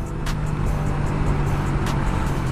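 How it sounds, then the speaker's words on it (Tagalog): Steady road traffic on Commonwealth Avenue in the Philippines, cars and other vehicles passing, with a continuous roadway hum and a couple of brief higher swishes from nearby vehicles. "Ngayon, ang dami. Ang dami na sasakyan."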